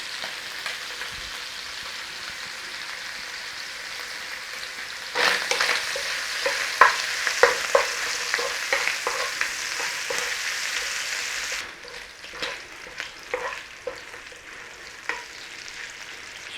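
Pancetta or bacon lardons sizzle steadily in a hot pan, with frequent scrapes and clicks from stirring that grow busier partway through. The sound is close and continuous, with no voices.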